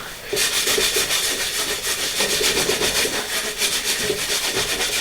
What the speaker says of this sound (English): And just rub some of it away.